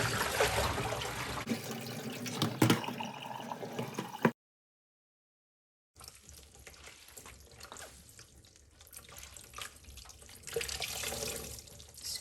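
Tap water running and splashing while a crocheted lace blouse is rinsed in a sink, a close, faint, uneven wash broken by a short silent gap.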